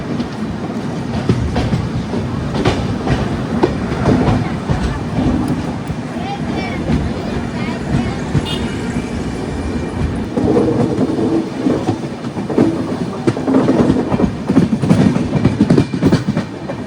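Avadh Assam Express train running on rails in India, a steady loud rumble with clickety-clack wheel rhythm throughout, heard from on board with some voices underneath.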